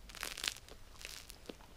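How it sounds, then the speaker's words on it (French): Quiet, crisp crunching of a bite into crusty chestnut flour bread, a few brittle crackles close by with small pauses between them and no talk. "On entend bien qu'il croustille."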